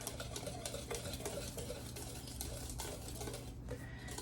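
A spoon or whisk stirs fruit cobbler batter made with milk, working it smooth in a bowl; the soft, steady swishing and patter run quietly and continuously throughout, with no talking.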